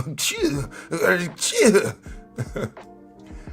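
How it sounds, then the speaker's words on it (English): Several sharp bursts, sneezes and coughs, break out one after another at a press conference, with talk running around and between them. "You notice you heard the sneezes"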